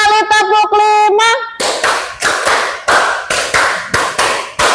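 A rhythmic clapping pattern in a classroom follows a short sung or chanted phrase, with several loud, close, sharp claps in an even beat.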